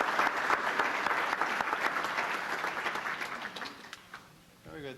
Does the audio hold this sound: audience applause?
yes